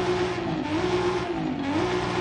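Race exhaust on a car in Forza Horizon 5, revving: a loud, raspy, high-pitched engine note held steady, dipping and climbing twice as the revs rise and fall, with no talk.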